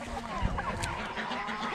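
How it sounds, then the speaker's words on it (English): Chickens and a young rooster cluck and squabble close by while being fed on a farm, a dense, busy murmur of fowl calls with a brief thump near the start. "Here, baby rooster, you can have some."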